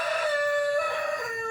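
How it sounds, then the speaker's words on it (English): A rooster crows close by in a single sustained, strongly pitched call that holds steady and then trails off, with nothing else heard around it. "Pardon that rooster."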